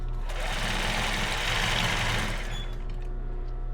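A sewing machine runs steadily while stitching lace underwear, a close, continuous whirring and rapid mechanical chatter that tapers slightly toward the end.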